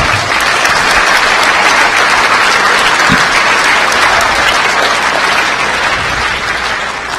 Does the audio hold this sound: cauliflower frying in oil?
no